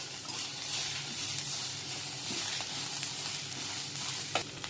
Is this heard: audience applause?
no